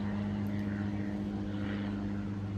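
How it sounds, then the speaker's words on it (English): A propeller airplane passes overhead outdoors, a steady droning hum that stays at an even, moderate level throughout with no other sounds. "so sorry about the noise of the plane"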